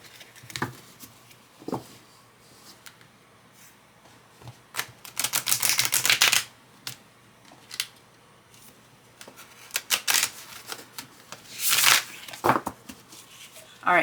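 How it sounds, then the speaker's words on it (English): Crisp bursts of tarot cards being riffled and bridged, several quick shuffles in a row with light tapping between them, close and fairly loud. "They shuffle very nicely."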